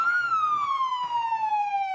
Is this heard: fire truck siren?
yes